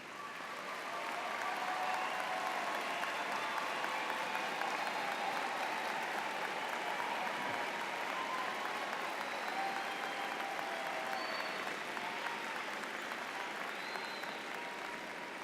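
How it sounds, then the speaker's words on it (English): A graduation ceremony audience applauds family members at a university winter commencement, a sustained even wash of many hands clapping that fills the hall for about fifteen seconds, fairly distant and steady. "all of these folks that stood up and actually were applauding you a couple of minutes ago very, very vigorously"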